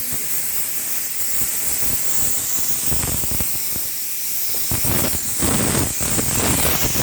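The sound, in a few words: 12.5 litre pressure cooker hissing steam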